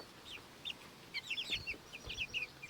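Two-week-old chicks in a chicken tractor on a Nova Scotia homestead give soft, high peeping chirps in small clusters, faint and close, with no talking.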